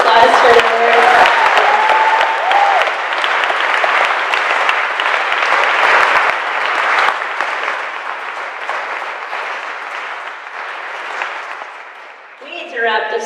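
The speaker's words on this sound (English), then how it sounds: "Can we give them actually a round of applause for their work?" An audience at a church panel discussion on LGBTQ+ allyship claps in a sustained round of applause that swells, holds and gradually tapers off before talk resumes at the end.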